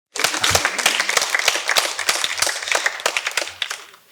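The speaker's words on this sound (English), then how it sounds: "You can clap for that, it's okay." Audience at a school tree planting and leadership ceremony claps steadily for several seconds, a dense patter of hands that swells briefly and then thins out toward the end.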